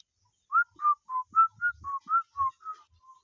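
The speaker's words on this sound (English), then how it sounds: "I'm very happy till I can whistle" A person whistles a short melodic tune outdoors, about ten clear, evenly spaced notes in a steady rhythm, close and fairly loud with quiet low rumbles between notes.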